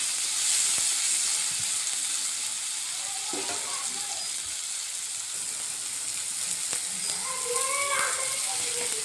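Green chilies frying in a pan during preparation of a spicy fish curry, a steady, moderately loud hiss and sizzle throughout, with brief faint tonal sounds near the end.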